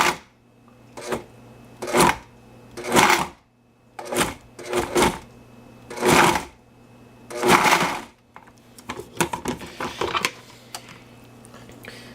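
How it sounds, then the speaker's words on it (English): Short bursts from a blender pulsing soft vegan burrito filling, roughly eight loud chopping pulses separated by brief pauses, followed by quieter rattling and whirring toward the end. "Because this is soft, you can do it in any blender."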